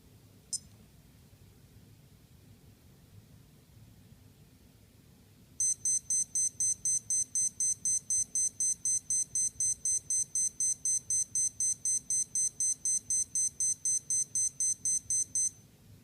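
A Timex Ironman T5K412 wristwatch countdown timer going off as a steady run of rapid, high electronic beeps lasting about ten seconds, fairly loud and close, following a lone short chirp and quiet room noise, with no talking.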